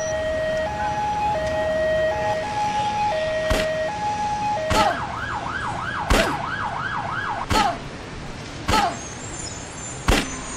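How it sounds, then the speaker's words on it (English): Emergency vehicle sirens in the Emergency 4 London Mod video game: a two-tone hi-lo siren switches to a fast rising-and-falling wail, punctuated by several sharp clicks, loud and continuous across the clip. "now that you can hear the sirens"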